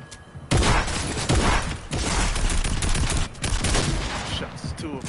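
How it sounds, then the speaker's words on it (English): Dense bursts of rapid gunfire fill a Fortnite match, loud and close, with overlapping volleys and short breaks between strings of shots. "Shots."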